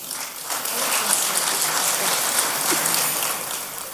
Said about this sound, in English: A warmer round of applause